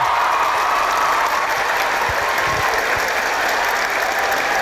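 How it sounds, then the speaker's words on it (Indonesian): Studio audience applause at a television talk show, a dense, loud, sustained clapping that fills the whole stretch. "Kita berikan aplaus untuk Thorik Halilintar."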